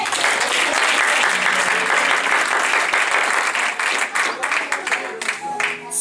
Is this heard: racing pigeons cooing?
no